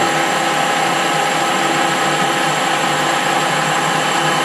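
A surface grinder grinds metal at about 40 thou depth of cut, a loud, continuous, steady high-pitched whine with a dense rushing hiss and no pauses.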